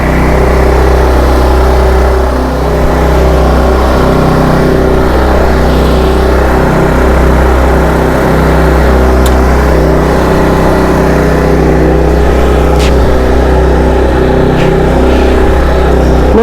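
A small inverter generator runs on its low setting while powering a welder with 6013 rod, giving a loud, steady engine drone with no pauses and no voices.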